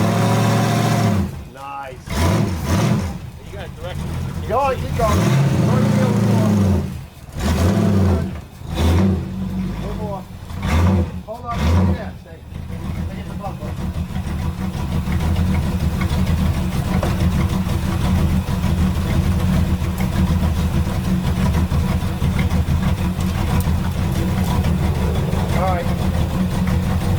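A 1973 Chevy Camaro split-bumper, roused after at least ten years of sitting, runs with a low, steady engine rumble just after its cold start; people talk over it in the first half, then the engine carries on alone.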